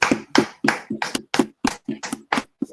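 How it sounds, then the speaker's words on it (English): A group of hands clapping together for a class, about ten sharp claps in a steady, slightly uneven rhythm, close and loud with no talking. "Clap it up for the class."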